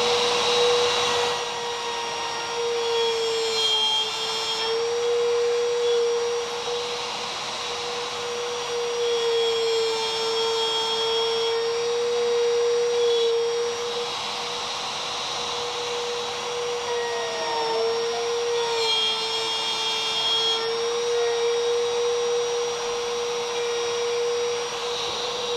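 A Bosch Colt compact router fitted with a plunge base whines steadily at high speed while cutting, its tone dipping slightly as the bit bites in on successive shallow passes, loud and continuous with no talking.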